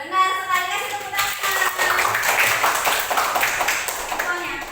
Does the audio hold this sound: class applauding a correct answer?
yes